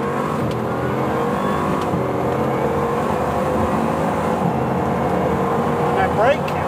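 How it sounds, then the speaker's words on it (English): A Bugatti Chiron pulls hard from first gear, its engine note rising steadily and loudly with a climbing whine heard from inside the car. "we'll just give it a quick blast from first gear, and you can see what it's like"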